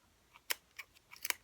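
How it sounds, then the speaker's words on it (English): Scissors snip through yarn wound on a pom-pom maker: a few sharp, quiet cuts come in an uneven sequence, close up, with a quick double snip at the end. "I'm going to slowly snip open all the yarn that we have nicely wrapped up."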